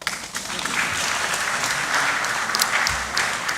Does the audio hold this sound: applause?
yes